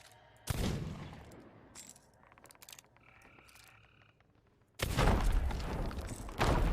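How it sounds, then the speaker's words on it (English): Gunfire in the Sea of Thieves pirate game, loud sharp bursts opening and closing the stretch with quieter clattering effects in between, no talk. "What are you shooting?"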